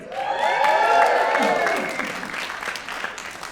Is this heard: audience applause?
yes